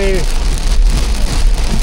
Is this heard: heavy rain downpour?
yes